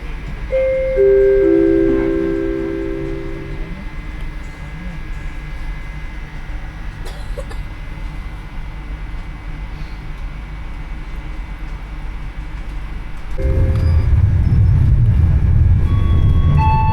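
An Indonesian Mataram economy train runs toward Purwokerto, heard from inside as a steady low rumble with a tonal chime at the start and a louder surge of rolling noise near the end.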